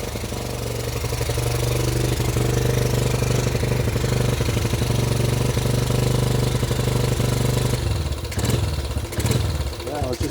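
Rebuilt Yamaha Badger YFM80 ATV engine idling, a loud close steady thrumming putter that roughens and wavers near the end, with people talking over it.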